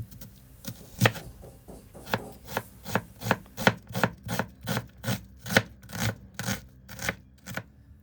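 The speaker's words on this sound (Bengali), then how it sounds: "এখন একটা পেঁয়াজ আমি কুচি করে কেটে নিব।" An onion being finely chopped with a knife on a board: about sixteen crisp, even knocks in a steady rhythm, close and clear, with no one talking.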